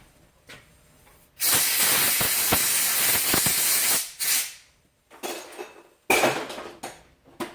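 Compressed air blasts through a Yamaha Bear Tracker 250 carburetor in a long loud hissing burst, followed by several shorter spurts and pauses.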